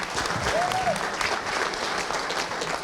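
A crowd at a city's state of the city address applauds the city engineer, steady dense clapping that fills the whole stretch, loud and close, with a brief voice over it.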